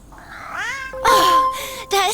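A cat meows several times in a firefighting video game, found in the attic of a house during a smoke-alarm call. The cries are close and rising, in quick drawn-out bursts, with a faint tonal sound in the background.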